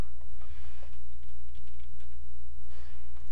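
Typing on a computer keyboard while entering a name into an installer, a quick run of light clicking keystrokes over a steady low hum, close and alone.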